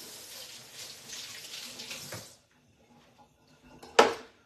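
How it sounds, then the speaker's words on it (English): Cold water runs from a kitchen tap into a sink in a steady splashing stream for about two seconds, then stops. After a short quiet there is a brief sharp clatter near the sink. "Let's go run some cold water."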